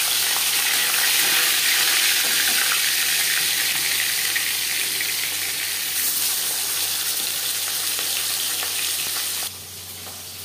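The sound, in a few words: turmeric-and-salt-coated fish frying in hot refined oil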